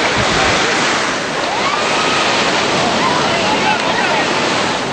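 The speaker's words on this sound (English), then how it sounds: "I was just flying along the waves" Ocean surf crashing and rushing continuously at a surfing spot where disabled surfers ride waves, loud and broadband with wind buffeting the microphone and faint voices mixed in.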